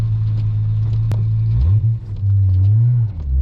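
A Toyota Aristo with a 1JZ engine drives along with a steady loud drone, its pitch dipping and climbing again through a smooth gear shift.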